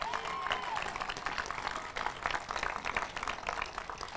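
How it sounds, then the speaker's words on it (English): An outdoor crowd at a bicycle-footbridge dedication ceremony applauds, steady, moderately distant clapping from many hands, with some voices mixed in. "Give them a round of applause."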